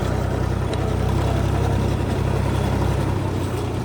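An International tractor pulling disc harrows across a field: the heavy diesel engine throbs steadily and close, with a constant low pulsing drone.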